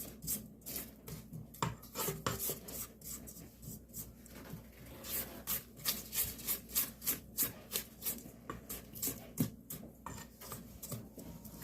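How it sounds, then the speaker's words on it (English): A spatula scrapes the sides of a mixing bowl of red velvet cake batter in a steady run of short, rhythmic rasping strokes, close and soft, with a faint voice now and then. "we're going to scrape our bowl down"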